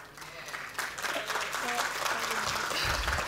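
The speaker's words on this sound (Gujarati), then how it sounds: "બસ આ તાળીઓનો અવાજ છે ને એ જ અમારા માટે રાસ અને ગરબાનો અવાજ છે" Dense, steady audience applause fills a Karnavati Lokmanthan 2024 folk cultural gathering after ras and garba performances. It grows slightly louder, with some voices faintly underneath.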